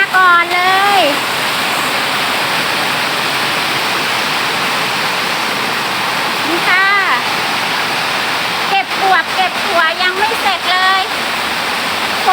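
Heavy rain falls steadily on a home vegetable garden on a rainy evening, making a loud, dense, unbroken hiss. Whistle-like chirps come and go on top of it.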